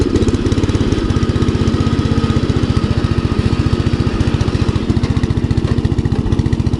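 A small engine on an odd three-wheeled machine runs loud and close, a rapid even putter of firing pulses that holds steady throughout.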